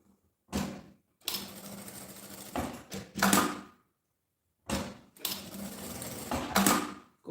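A sewing machine stitches along the edge of a handmade bag in several short bursts, each run of rapid clatter separated by brief pauses, close and fairly quiet.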